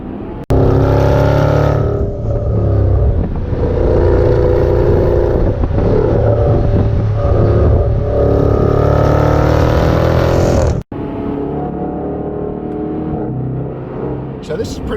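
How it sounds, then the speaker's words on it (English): Exhaust burble from a 2020 Range Rover Sport SVR at part throttle, a loud, close, rumbling engine note that runs steadily with a brief break, while people talk over it. "Part throttle gives you the burble."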